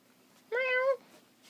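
A person imitates a cat's meow with a single clear, drawn-out voiced mew, close and fairly loud, standing alone against a quiet background.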